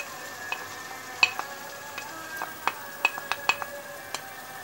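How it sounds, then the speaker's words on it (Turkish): Pepper paste and grated tomato sizzle steadily in a pan while a spoon stirs them, with scattered clinks and scrapes against the pan over the constant frying hiss. "salçayla domatesimizi karıştırıyorum"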